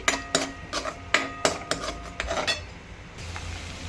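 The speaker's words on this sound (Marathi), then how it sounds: "चला आता हा लसूण परतवून घेऊया आधी" A metal spoon scrapes and knocks against a pan as garlic is stirred in oil, for a country-style dry val bean dish, in a series of sharp clinks and scrapes that taper into a soft quiet sizzle near the end.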